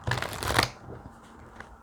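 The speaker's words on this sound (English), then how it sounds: "So I'll shuffle these one more time" A deck of tarot cards being shuffled close up, a quick burst of riffling and flapping that fades into quiet handling rustle.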